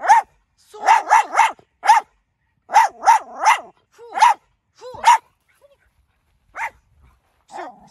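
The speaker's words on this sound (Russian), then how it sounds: "Ну чего ты гавкаешь?" A pet dog barks repeatedly indoors in loud, close bursts, with clustered yaps, pauses between groups and a few later isolated barks; no speech is heard over them.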